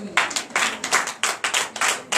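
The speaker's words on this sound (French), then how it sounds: "Donnez l'acclamation à notre Seigneur." A church congregation at a Sunday service in Benin claps in rhythmic bursts, several loud, closely packed rounds of clapping in a steady beat.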